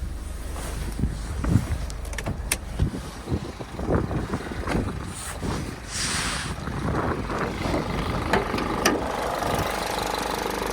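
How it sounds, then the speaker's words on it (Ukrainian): A Renault Koleos engine idles steadily under clicks and knocks, with a constant low rumble throughout and occasional sharper taps. "Робота двигуна."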